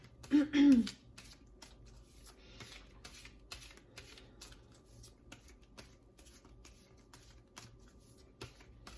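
Tarot cards are shuffled close by, with a dense riffle at the start and then steady light flicks and taps repeating through the clip, quiet against a soft room hum.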